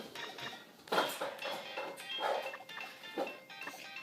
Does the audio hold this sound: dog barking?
yes